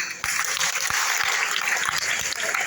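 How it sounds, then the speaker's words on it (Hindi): Loud, dense applause from a gathered audience at a motivational talk, steady clapping that starts abruptly and holds at full strength throughout. "जोरदार ताली।"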